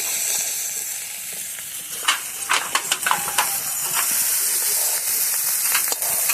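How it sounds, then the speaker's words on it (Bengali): Malabar spinach (pui) seeds fry in a pan with a steady loud sizzle and hiss, broken by a few sharp pops and stirring clicks midway. "এই দেখো ভাজি হচ্ছে, খুব সুন্দর করে ভাজি করছি"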